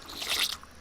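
A werewolf in a video game eats a human body, giving a single short, wet biting crunch, close and moderately loud, with no talking.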